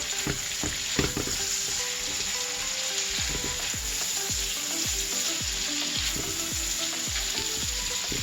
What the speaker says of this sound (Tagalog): Prito ko na maluta yung sibuyas.